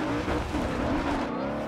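Engine and tires of a car in the Forza Horizon 2 racing game, a steady, loud revving drone with no talk, running throughout.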